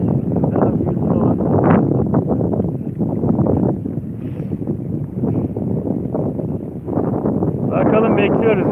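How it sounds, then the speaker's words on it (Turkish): Strong wind buffets the microphone at a lakeside carp-fishing spot in Değirmenköy, a steady loud roar and rumble that persists the whole time and swells again near the end. "şu an çok rüzgar çıktı"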